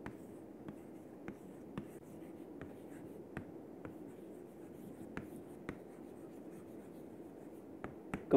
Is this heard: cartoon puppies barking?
no